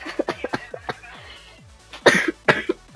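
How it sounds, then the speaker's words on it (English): A man with a bad cold coughs repeatedly: a run of short, dry coughs early on, then a louder burst of harsher coughs near the end, close to the microphone during a Rocket League session. "Sorry guys, I got a bad cough."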